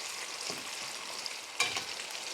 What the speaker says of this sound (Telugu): ఇప్పుడు మనం డీప్ ఫ్రై చేసుకోవాలి